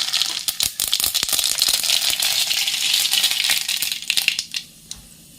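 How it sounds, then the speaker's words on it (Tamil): Mustard seeds popping and crackling in hot oil in a kadai, a dense run of sharp clicks and sputters close up, thinning out toward the end, with no voices. "இப்போ எண்ணெய் காஞ்சிச்சு இப்போது கடுகு போட்டுக்கலாம்"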